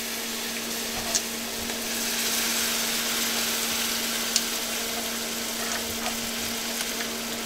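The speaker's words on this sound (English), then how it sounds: "And then I'm going to add my milk." Milk poured into a flour and oil roux in a pan, giving a steady, even sizzle over a constant low hum, with a couple of faint clicks and no talk.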